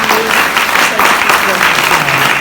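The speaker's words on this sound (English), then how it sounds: "let's give a round of applause to all these folks for being willing to do" An audience at a parish police jury candidate forum applauds the candidates, a steady, dense wash of many hands clapping at even loudness throughout.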